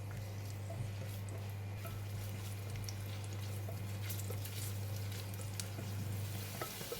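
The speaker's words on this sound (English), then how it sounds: "I'm going to fry my shallots in the pot" Shallots fry in hot onion oil in a pot, a faint steady sizzle with scattered crackles and pops over a low constant hum.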